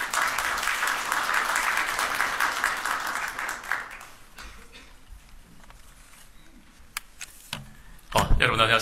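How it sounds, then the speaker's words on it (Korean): Hall audience at a Korean science forum applauds to welcome a broadcasting executive to the stage, steady dense clapping for about four seconds that fades into quiet room noise before a voice begins near the end. "큰 박수로 모시겠습니다"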